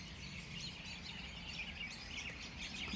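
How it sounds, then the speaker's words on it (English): Many robins sing and chirp together in trees, a dense, continuous chorus of overlapping calls heard from a moderate distance over a low background hum. "It's robins."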